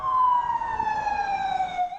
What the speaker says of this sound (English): Ambulances rushing to the scene on Sunday in Turkey's largest city